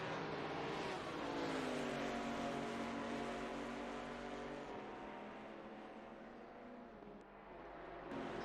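Sustained roar of GT4 race car engines in a sim racing game at Imola, including a V8 Chevrolet and a Ginetta, droning steadily with rising and falling pitch as the cars follow each other, loud and continuous without talk.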